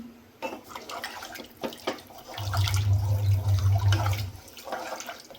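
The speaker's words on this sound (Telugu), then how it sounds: "ఆరు గ్లాసులు వాటర్ వేసుకున్నాను త్రీ గ్లాసెస్ రైస్ తీసుకున్నాను" Water pours from a glass into a pot of rice for biryani, a short gushing splash in the middle, close by, between quieter clinks and kitchen handling sounds.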